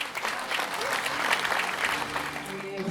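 A concert hall audience at Bobino applauds a singer during an 80s-90s show, a dense, sustained clapping that stays steady, with music starting faintly beneath near the end.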